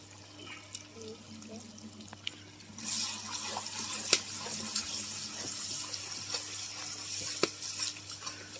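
Garlic and ginger paste frying with chili powder and turmeric for a Kolkata-style chicken biryani, a quiet steady sizzle with soft stirring scrapes and occasional sharper clicks of a utensil against the pan.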